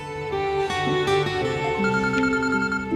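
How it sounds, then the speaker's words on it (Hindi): A telephone rings indoors during a TV drama scene, a steady melodic ringtone of sustained electronic tones repeating for about three seconds, moderately loud and without talk. "देखो तो किसका फोन है"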